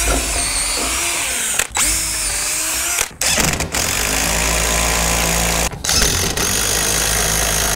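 A power drill drives bolts into old 6x6 wood posts, running loud and close in long bursts that cut out briefly and restart several times, with labored pitch shifts as it bites into the wood.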